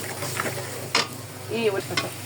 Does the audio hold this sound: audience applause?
no